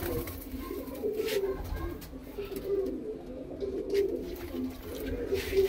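A male pigeon with white eyes, a Punjabi fancy pigeon kept for sale, coos in low repeated murmurs throughout, steady and close, with faint background noise.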